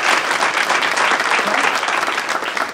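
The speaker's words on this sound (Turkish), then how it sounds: "Ya bir alkış" A studio audience bursts into loud, dense applause, steady and sustained throughout with no break in the clapping.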